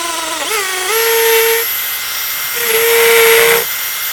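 A power drill with a wood bit boring a hole down to masonry, two separate bursts of high-pitched motor whine that spin up, hold steady and stop, close by with a short pause between.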